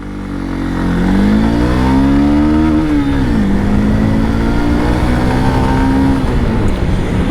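A 2021 Honda Unicorn 160 motorcycle engine revs up from a start, its loud, close drone climbing in pitch, dipping briefly, then holding steady as the bike pulls away, with no talk over it.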